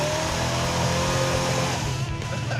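The Red Duster car driving an autocross course, heard as a steady, loud engine drone at close range with no pauses. Faint talk may sit beneath it.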